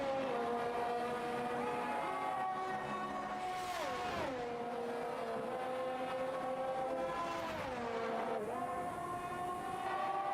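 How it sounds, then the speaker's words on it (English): Continuous whining race car engines in a racing video game roar throughout, pitch rising and dropping sharply twice as gears shift, loud and steady with no talking. "Can you guys still hear the sound of the cars"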